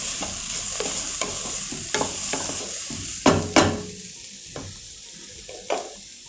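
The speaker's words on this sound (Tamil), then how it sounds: "பார்த்தீங்கன்னா நல்லா வதங்கிடுது கேரட்." Carrots sauté in a pan with a continuous soft sizzle, broken by irregular spatula scrapes and clinks against the pan. A few louder knocks stand out, with no speech.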